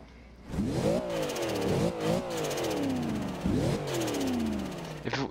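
A 2012 Cadillac Escalade engine in Forza Horizon 2 revs repeatedly, rising and falling in pitch several times in quick bursts, steady and fairly loud with no talking.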